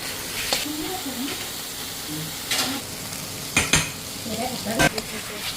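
Tomatoes and greens frying in a kadai give a soft, steady sizzle. A spoon or spatula stirs against the pan in several sharp scraping knocks, with quiet sounds of a voice in the background.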